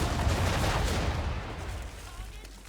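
Ship cannons firing in Assassin's Creed 3, a booming broadside volley that starts loud and rolls into a fading rumble, with no voices over it.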